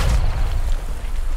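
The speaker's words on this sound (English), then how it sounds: "Grenade. Frag out. Well, that's actually a pretty good frag." A grenade explosion in the World War 2 shooter game Hell Let Loose rolls out as a deep, sustained low rumble lasting over a second, with no voices over it.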